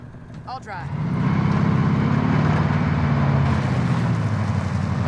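A truck drives in the video game Call of Duty Cold War Warzone, its engine a steady, loud rumbling drone that swells in after a brief quieter start and holds to the end.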